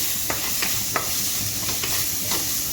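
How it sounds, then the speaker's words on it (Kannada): Tomato masala fries for a chicken gravy of heart, giblets and liver, with a steady close sizzle and a spoon scraping the pan every half second or so. "ಚೆನ್ನಾಗಿ ಫ್ರೈ ಆಗಬೇಕು"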